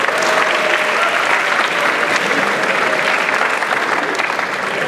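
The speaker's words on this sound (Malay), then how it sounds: "Berikan tepukan." Steady, dense applause from a forum audience, held at an even level for about five seconds.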